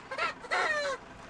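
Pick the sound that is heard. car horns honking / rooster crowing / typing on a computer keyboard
rooster crowing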